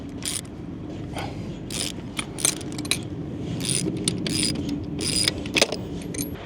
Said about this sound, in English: Let me go get my sockets and see if I can pull these bolts up here